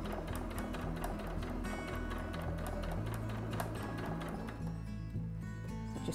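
A sewing machine stitches elastic onto fabric in a fast, even mechanical chatter that runs continuously at moderate level and shifts pace slightly midway, with no voices over it.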